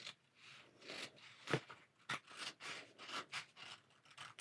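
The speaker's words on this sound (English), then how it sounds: "And now we're just going to trim that." Paper trimmed for a scrapbook page, a series of rhythmic rasping strokes of a paper trimmer blade sliding along the sheet, close and quiet, with a couple of sharper clicks.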